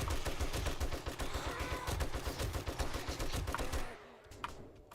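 Rapid bursts of gunfire pour out nonstop in 7 Days to Die as a bomber zombie is shot down, dense and loud for about four seconds before cutting off into a near-quiet tail with a couple of faint clicks.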